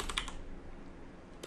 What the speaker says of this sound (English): So you're going to type in sudo apt-get